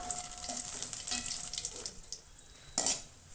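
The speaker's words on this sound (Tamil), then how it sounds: "அதை போட்டுட்டு கோல்டன் ப்ரௌன் கலரில் ஃப்ரை பண்ணி எடுத்துக்கலாம்." Small cubes of bread slice fry in ghee in a kadai, giving a steady close hiss of sizzling with a brief louder bubbling burst near the end, and no voices.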